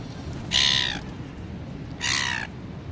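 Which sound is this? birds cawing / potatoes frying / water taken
birds cawing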